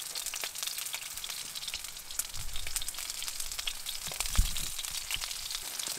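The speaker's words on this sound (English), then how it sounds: "The steak's gonna take a while to cook because it's about an inch and a half thick." A thick steak, roughly an inch and a half, sizzles in a pan at a winter hot-tent camp, with a soft, steady crackle and a few louder pops and no voices.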